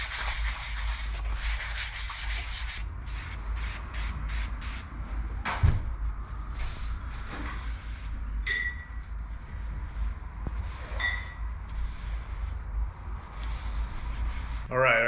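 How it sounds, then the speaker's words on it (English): Light hand sanding of a primed Frisco-style motorcycle fuel tank for a hardtail, a steady rhythmic scratchy rubbing with quick back-and-forth strokes throughout, close and moderately quiet, with a few knocks and clunks and a low background hum. "Just keep going at it. Just sand it lightly."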